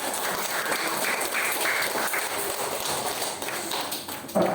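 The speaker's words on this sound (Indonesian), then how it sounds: "Tepuk tangan semuanya" Classroom applause, a class of students clapping together in a dense, steady patter at moderate loudness that fades briefly near the end.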